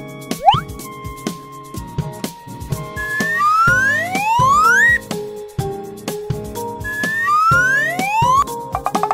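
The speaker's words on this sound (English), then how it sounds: "Ambulance." An ambulance siren in a children's vehicle cartoon sounds as repeated upward-sweeping wails over plinking, rhythmic background music and light pops.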